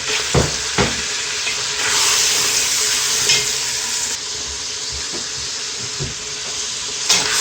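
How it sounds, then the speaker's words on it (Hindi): Large onion, sliced lengthwise, frying in hot oil in a pan for Algerian-style couscous: a steady loud sizzle with a few stirring knocks and scrapes, and no talking. "अब इसको इसके अंदर डाल के इसको फ्राई करते हैं।"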